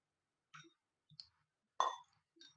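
A spoon clinks against a bowl while batter is mixed with a little water, four sharp separate metallic taps spaced about half a second apart, the third loudest, in a quiet room.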